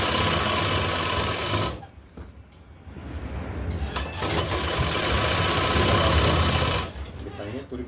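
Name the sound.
sewing machine doing double stitching on a kurti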